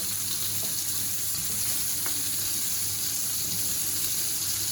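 Chopped garlic and onion frying in a roasting pan, a steady even hiss of sizzling fat close by with a couple of faint clicks, no talk.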